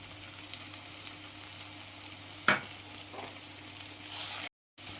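Capsicum fry being stirred in a pan, with a steady sizzle and light scraping of the spoon, a sharper clatter midway, and no talking.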